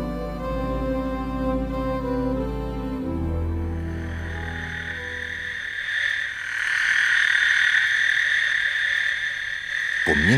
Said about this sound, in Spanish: el deseo de reproducirse de estos machos de sapo es incontenible